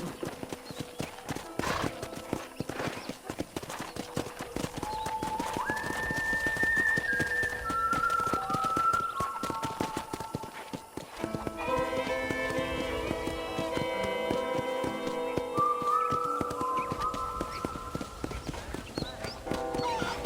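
Steady hoofbeats clip-clop throughout at a walking pace in the video game Red Dead Redemption, with a horse whinnying and melodic music playing over them.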